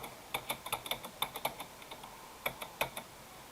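Someone types steadily on a computer keyboard, giving close, crisp clicks in a quick irregular run, a short lull, then a few more keystrokes.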